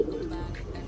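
Racing pigeons give a single soft, low coo at close range, faint and brief against a quiet background.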